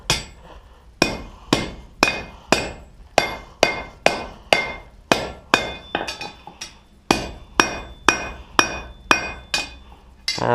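Hot steel for a fire poker is hammered over the horn of an anvil, loud, close ringing blows struck in a steady rhythm of about twenty strikes with brief pauses between groups.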